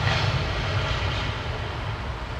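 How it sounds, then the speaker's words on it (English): A Boeing 787 Dreamliner rolls for takeoff at London Heathrow. Its engines make a steady, loud, broadband roar that thins a little toward the end. "Long run on the Dreamliner."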